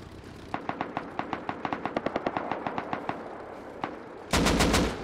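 Rapid bursts from an M2 heavy machine gun in the Rust video game, a steady string of sharp shots fired in quick succession, then a loud heavier blast near the end.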